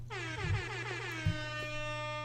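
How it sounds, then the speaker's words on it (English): A loud DJ air horn sound effect blasts in a rapid, stuttering series of honks, then holds a final sustained tone that fades out. "Air horn."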